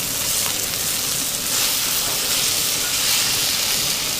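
Grated potatoes and bratwurst frying with seasoning in a pan, a loud, steady, close sizzle that hisses without a break throughout.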